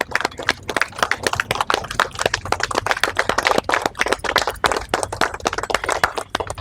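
Crowd applause greeting a guest at an Independence Day flag-hoisting ceremony held by the Congress party in Araku: dense, steady clapping from many hands that keeps going for several seconds without a break.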